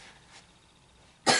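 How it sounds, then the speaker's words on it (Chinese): A single sharp cough bursts out near the end, loud and close after a stretch of near silence. "老师，我咳嗽。"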